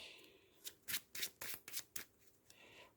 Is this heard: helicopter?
no